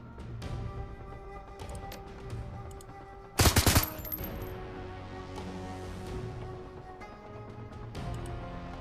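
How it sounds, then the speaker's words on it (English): Gunfire in the video game Shadowrun: Hong Kong: a short rattling burst of several rapid shots, loud and close, standing out over a steady game music background. "let's get you here so you can shoot him in the back"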